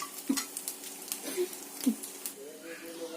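Fried chicken and potato kababs are lifted from a pan onto a dish: a few soft clinks and scrapes of a utensil over a faint sizzle, with a voice in between.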